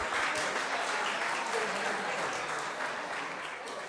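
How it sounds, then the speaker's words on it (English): Applause for the youth group from a mosque congregation at an Islamic center during Ramadan, a sustained wash of many hands clapping that fades slightly toward the end, with voices faintly mixed in. "Big round of applause for the youth group"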